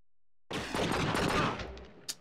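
A rapid burst of gunfire in the video game True Crime: Streets of LA, starting abruptly and rattling loud and dense for about a second and a half, then tailing off with one short sharp report at the end.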